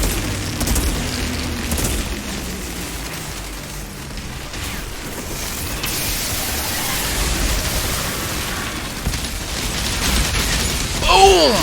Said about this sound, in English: I do love the explosions that the Technomancer makes